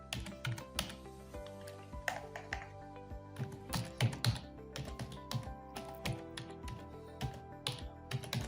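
An email address being typed on a computer keyboard, with irregular clusters of sharp, close key clicks and taps continuing for several seconds with brief pauses and no talking.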